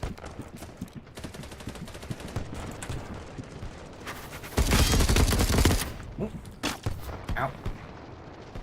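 Gunfire in the BattleBit shooter game, scattered single shots and bursts with a dense, loud volley of sustained automatic fire in the middle, heard up close over a noisy battlefield.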